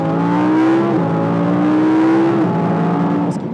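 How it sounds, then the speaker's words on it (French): An Audi R8 V10 Plus with its naturally aspirated V10 and sport exhaust valves open roars steadily and loudly close by, its pitch climbing through two quick gear changes. "sur un V10 atmosphérique, tout ce qu'on veut entendre, c'est vraiment le moteur rugir"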